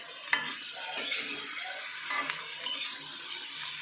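A potato and hilsa fish curry is stirred in a pan over a low, constant sizzle, with a handful of soft scrapes and light clicks of a utensil against the pan.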